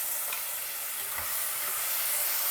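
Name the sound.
tomato paste frying with dry spices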